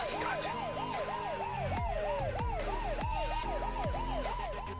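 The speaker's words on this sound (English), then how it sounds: "Oh, was there a police car? Wait, I heard sirens." Police car siren in American Truck Simulator, a loud, steady rising-and-falling wail cycling rapidly and evenly, with a low engine drone underneath and no talking.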